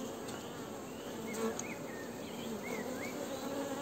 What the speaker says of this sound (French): c'est un essaim sur 2 cadres